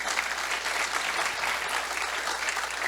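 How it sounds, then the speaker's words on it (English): A room full of people applauds steadily, a dense continuous patter of clapping at an even level throughout. "Big round of applause for them, please."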